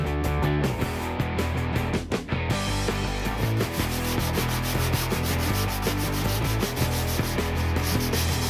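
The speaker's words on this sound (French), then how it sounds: "il va nous rester surtout maintenant à passer tout ça à la ponceuse au grain 80" Power sander working a wooden chest with 80-grit paper, a loud, close, continuous gritty rubbing drone with slight shifts in pressure.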